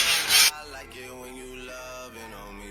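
A blade scrapes small bumps off a wall before plaster filler is rolled on, a loud rasping stroke at the start, then fainter rubbing and grating against the surface, with no talk.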